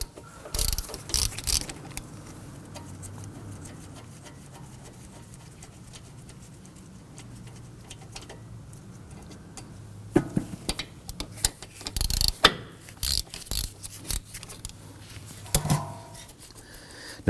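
A ratchet with a 12mm socket loosens the front brake caliper bolts on a 2005-2009 Subaru Legacy. A steady low hum runs underneath, then sharp metallic clicks and clacks come in separate bursts, loudest toward the end.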